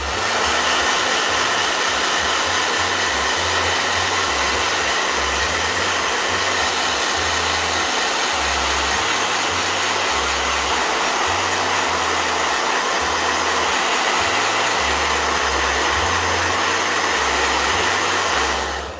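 A blow dryer runs continuously and loudly for the whole stretch, a steady airy whine and roar with a low fluttering undertone, no talking.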